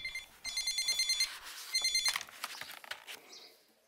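A telephone rings in two bursts of bright, warbling bell tones, with a pause between them, followed by a few handling clicks and bumps as the receiver is picked up.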